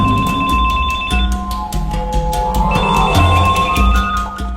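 Mobile phone alert ringing in a rapid run of bright, repeated electronic tones that shift in pitch partway through, loud and close, with no voices.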